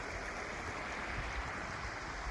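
River water flowing near a village trail in Uttarakhand, a steady broadband rush without pause, moderately loud and close, with no voices.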